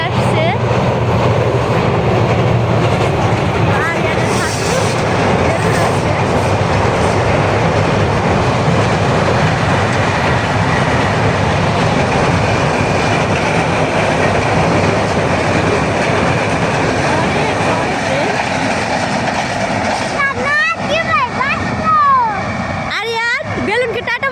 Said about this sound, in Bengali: ওই দেখো গাইস ট্রেন চলে আসছে